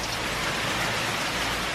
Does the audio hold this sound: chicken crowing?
no